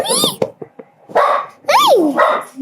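A puppy yelps and barks in sharp high bursts at close range, some calls rising and falling in pitch, with short pauses between them and occasional human voices nearby.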